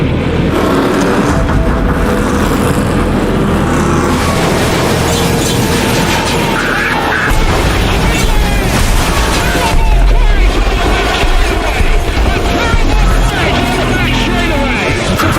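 A 3,400-pound race car smashes into a guardrail, flips back onto the track and is slammed by an oncoming car, heard as loud crashing impacts and booms over engine roar, with a voice talking over much of it.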